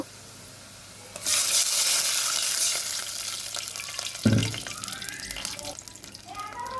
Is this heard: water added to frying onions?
yes